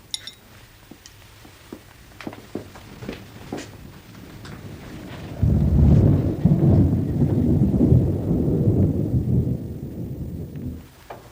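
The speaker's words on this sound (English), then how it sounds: "There was thunder in the distance" Distant thunder rolls low and broad through a steady rainstorm, swelling into a long rumbling peak midway and fading slowly, with no voices present.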